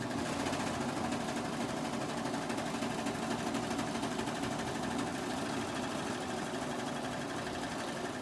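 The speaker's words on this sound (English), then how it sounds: "with the serger, you keep sewing to create this tail here" A serger sewing machine stitches and trims fabric continuously with a fast, steady mechanical whir and rattle, close and unbroken throughout.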